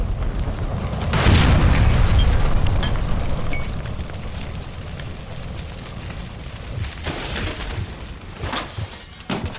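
Gas line blowing up near a stove inside a house in the game L.A. Noire, a heavy booming blast with shattering debris, followed by a lingering roar of fire and crackling, scattered crashes and later smaller bursts.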